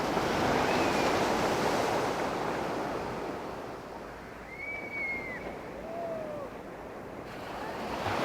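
Sea waves wash in a continuous broad roar with gentle swells in level, and faint bird calls drift over the surf now and then.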